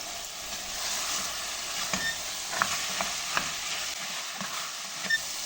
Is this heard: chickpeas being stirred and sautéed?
yes